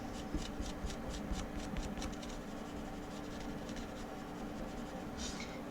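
A marker draws stripes across a cardboard sketchbook cover, giving a steady run of soft rubbing, scratching strokes close up, repeated rhythmically with no talking.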